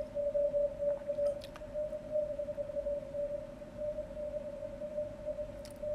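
A weak CW Morse signal comes through a ham radio receiver as a steady mid-pitched tone over constant hiss and rumble, with faint scattered blips and no voices.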